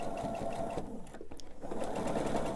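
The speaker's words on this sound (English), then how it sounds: "I'm going to start on my stitching that I had, about 1/2 inch, so that it overlaps" A sewing machine runs steadily as it stitches a quilt block seam, with a brief pause partway through before the motor whirs back up, close and alone.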